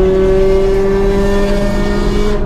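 A car engine under full throttle, loud and close, a steady strained drone with strong harmonic tones sustained throughout and rising only slightly in pitch as it accelerates.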